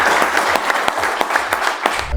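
Applause from the audience at a project handover ceremony held by IRBU General Business Group, a steady and dense clapping that is loud and fills the whole moment, with no talking over it.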